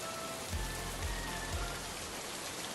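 Heavy rain pours down steadily in a cartoon scene, a dense, even hiss of drops on surfaces with faint low thumps pulsing under it, no voices.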